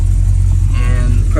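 A car engine idles at a steady low rumble while being checked for noisy lifters and backfires, close and loud, with faint ticking above the hum and a brief rise near the end.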